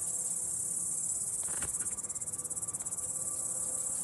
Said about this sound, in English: some incredibly loud cicadas